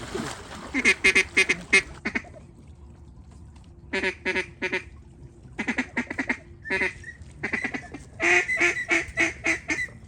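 Repeated bursts of loud honking calls from several ducks, coming in clusters with short gaps, close by over a low background rumble, on public land in Arkansas.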